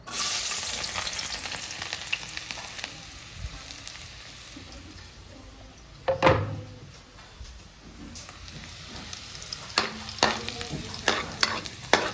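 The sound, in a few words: freshly caught fish frying in a pan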